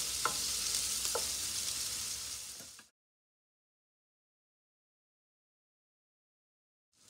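Pieces of squash and bacon lardons sizzle in a pan as they are stirred, with a few light scrapes over a steady hiss that cuts off abruptly into silence.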